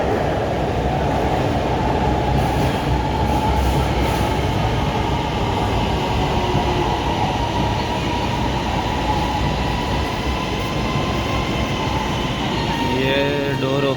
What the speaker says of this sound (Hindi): देखें ट्रेन वापस आ रही है।